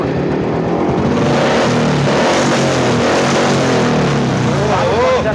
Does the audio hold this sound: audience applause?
no